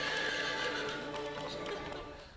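A horse neighs loudly in a long, wavering whinny with faint hoofbeats on rock beneath it, close and fading out near the end.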